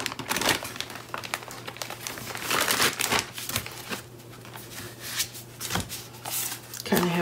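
A bag of craft supplies crinkles and rustles in repeated handling bursts while someone talks over it.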